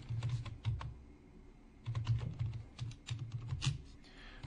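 Keys tapped on a computer keyboard while entering a command, quick bursts of clicking keystrokes with short pauses, close and clear with no talk.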